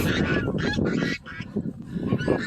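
A breeding flock of ducks or geese, honking and quacking close by in loud overlapping calls, with a brief lull midway before the calls resume.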